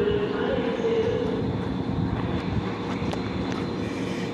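A DB ICE high-speed train, the Velaro D successor (class 408), stands at Basel Badischer Bahnhof, platform 4, giving a steady loud rumble and hum with faint clicks, continuous throughout.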